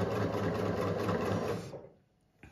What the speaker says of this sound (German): So läuft das bei dieser Nähmaschine.